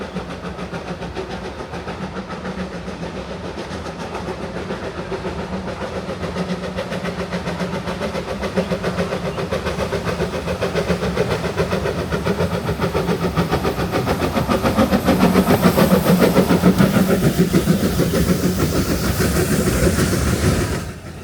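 Puffing Billy steam locomotives 7A and 8A double-head a narrow-gauge train on test runs toward Menzies Creek. A steady chuffing engine and rolling wagons build in loudness as the train nears, swell to a peak, and then cut off.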